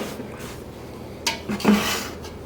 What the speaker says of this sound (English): We're going to put it in our roasting pan.